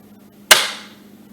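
Dry trigger pull on an empty Remington 700 ADL bolt-action rifle in .243: a single sharp, close metallic click that decays quickly in a quiet room.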